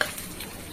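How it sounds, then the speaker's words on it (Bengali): Pabda fish frying in oil with spice paste in a pan, a soft, steady close sizzle with light stirring, no voices. "এবার আরো ভাজা আছে, একটু ভেজে নিই।"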